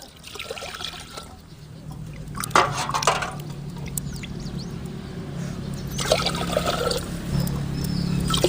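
Water trickles and pours into a cooking pot on the stove for rice, about three tumblers of water to one of rice for curd rice. The splashing is fairly quiet and builds in bursts over the pour.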